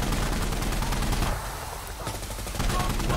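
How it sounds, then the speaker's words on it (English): Dense, continuous gunfire from the tactical shooter game Insurgency: Sandstorm, a steady fusillade of distant shots with a brief lull in the middle before picking back up. "I'm gonna go over here where all the gunshots are"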